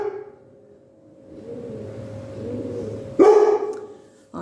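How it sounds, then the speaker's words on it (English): A dog named Joey barks indoors, one sharp close bark after a stretch of low whining and rustling, followed by a short second yelp at the end; no speech. "I don't think Joey is planning to give up barking right now"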